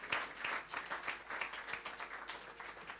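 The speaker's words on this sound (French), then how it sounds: "Acclame le Seigneur." A church congregation applauds during a sermon, with moderate, fairly distant clapping coming in uneven bursts and a little speech mixed in.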